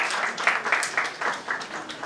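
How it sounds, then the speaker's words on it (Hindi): Audience clapping to welcome guests at a school retirement ceremony, a steady patter of many hands with rhythmic surges, moderately loud and continuous throughout. "क्या जोरदार तालियों स्वागत करिए सबका।"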